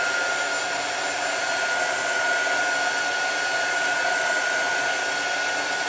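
A hair dryer blows steadily close by, drying chalk paste on a craft project, a loud, constant whooshing hum with a thin tonal whine that holds unchanged throughout, with no talking.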